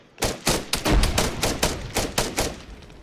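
Rapid gunfire in the Arma 3 military video game, about a dozen sharp shots in an uneven burst over three seconds, close and fairly loud with no talk.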